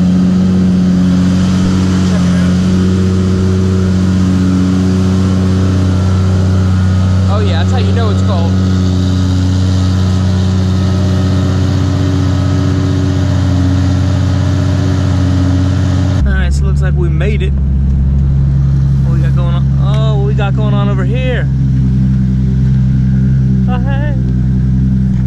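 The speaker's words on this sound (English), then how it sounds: "Oh, yes, so this is that real cold start." A Ferrari 599 engine idling loudly just after a cold start, a deep steady drone that shifts to a lower, heavier note partway through, with someone speaking over it in the second half.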